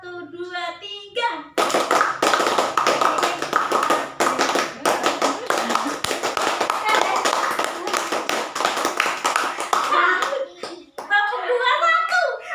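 A group claps together in a patterned scout-style rhythm during a group guidance session at an Islamic boarding school. Dense, loud bursts of hand claps fill most of the stretch, with voices talking before and after.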